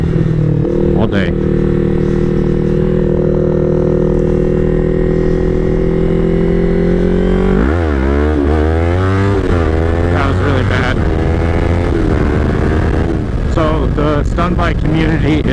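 A Yamaha R3 motorcycle engine being ridden: a steady close drone for several seconds, then revving up and down through rising and falling pitch sweeps, with talk mixed in.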